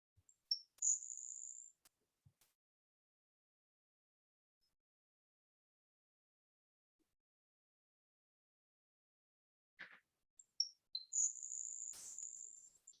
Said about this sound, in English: the grasshopper sparrow, that sounds, well, kind of like a grasshopper